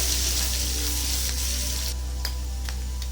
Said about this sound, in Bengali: আর আদা গ্রেট করে রেখেছিলাম আর কাঁচা লঙ্কা একটু ভালো করে ভেজে নেবো